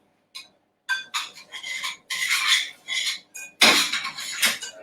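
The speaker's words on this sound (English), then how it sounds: "we're just going to mix that all together" Wet, gooey pie topping being mixed in a bowl, a series of close scraping and squelching strokes that come in uneven bursts and grow louder toward the end.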